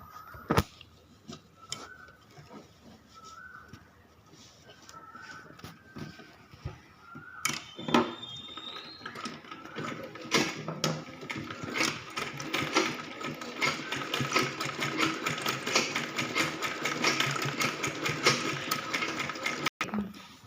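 Domestic sewing machine stitching elastic into an umbrella skirt, starting with scattered clicks and short bursts, then running in a steady, fairly close whir from about halfway through to the end.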